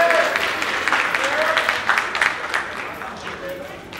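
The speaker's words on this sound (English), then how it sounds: "Let's give them a round of applause." An audience applauds a reverend and his band at a school district event, giving steady, close clapping that stays full for the whole stretch without dying down.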